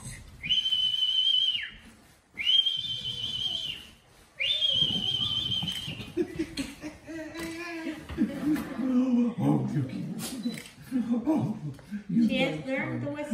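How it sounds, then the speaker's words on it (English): A person whistling to call a dog gives three sustained, high, steady whistles in quick succession, followed by talking and laughter. "Can I whistle now?"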